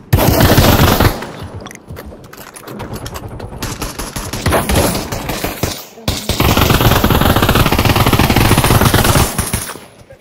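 Rapid automatic gunfire from the VR shooter game Pavlov rattles in dense, sustained bursts, loud and close, broken by brief pauses between volleys.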